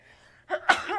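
A single short sneeze bursts out close to the microphone after a faint intake of breath, loud and sharp against near silence.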